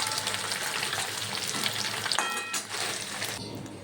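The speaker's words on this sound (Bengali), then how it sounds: "পনিরগুলো হালকা হাতে একটু ভেজে নেব" Paneer pieces fry lightly in hot oil in a pan, giving a loud continuous sizzle with a few stirring scrapes, easing off slightly near the end.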